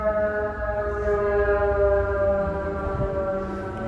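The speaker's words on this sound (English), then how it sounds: "We'll catch this ambulance going by here." An ambulance siren passes along Michigan Avenue in Chicago, a steady, loud, tonal wail that sits over city traffic rumble for the whole stretch.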